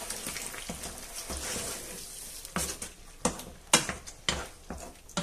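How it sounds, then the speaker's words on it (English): Clams in tomato sauce with paprika stirred in a pan, a steady soft sizzle with scraping spoon strokes that grow sharper and more rhythmic toward the end, close and alone. "I'm going to add just under a teaspoon and we'll give this a mix."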